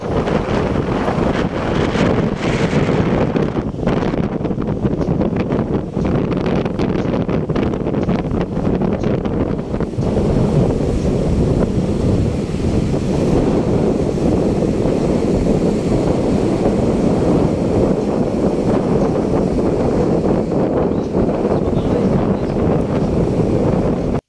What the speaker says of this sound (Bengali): সমুদ্রের জলোচ্ছ্বাসের শব্দ এবং সমুদ্রের যে ঢেউয়ের হাওয়ার শব্দ